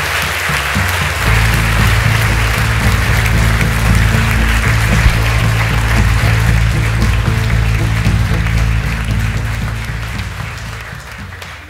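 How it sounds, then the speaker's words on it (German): A large indoor audience gives loud, sustained applause for a speaker, a thick continuous roar of clapping lasting over ten seconds before easing slightly at the end. "Ich bitte um einen großen Applaus."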